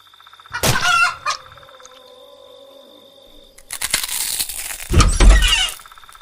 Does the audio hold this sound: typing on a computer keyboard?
no